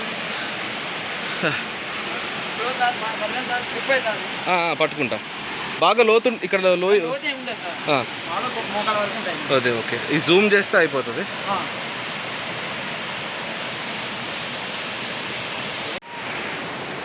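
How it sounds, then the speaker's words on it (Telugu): A waterfall near the Ahobilam temple in the Nallamala forest of the Eastern Ghats gives a steady, broad rushing roar that runs through the whole stretch, with someone talking over it for much of the time. "వాటర్ ఫాల్ అక్కడ, ఇదిగోండి వాటర్"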